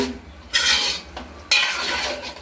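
Cauliflower, potato and mushroom are mixed in a pan for a Kayal veg curry, with two long, loud bursts of scraping and rattling from the spoon against the metal pan separated by a quieter pause.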